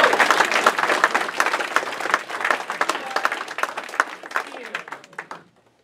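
A packed crowd at a Culver City campaign rally applauds a band, dense sustained clapping with cheers that swells and then fades out near the end.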